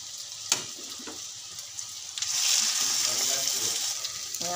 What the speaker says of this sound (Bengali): পেঁয়াজটা কষিয়ে নিই, ভেজে মশলা কষিয়ে নিই।